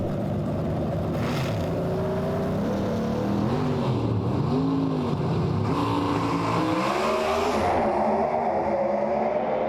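Pro Stock drag race cars with big hood scoops feeding carburetors roar down the track at Sydney Dragway, loud sustained engine howl with rising and falling pitch as they pass and shift.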